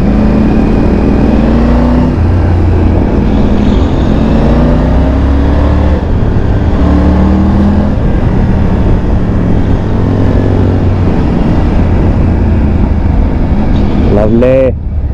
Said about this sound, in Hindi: सेकंड गियर में इंजन ब्रेकिंग